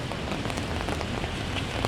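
Steady rain falling on a car-free city street at Bloor and Yonge in Toronto, a dense, even hiss of drops spattering on pavement with scattered louder splashes close by, no voices.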